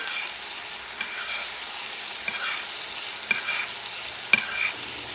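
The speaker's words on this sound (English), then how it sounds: "basting the steak as it soaks up all the sweet, salty, and garlicky goodness." Chuck eye steak sizzles steadily in a pan while being basted with a sweet, salty garlic glaze, with occasional sharper clicks of a spoon or pan.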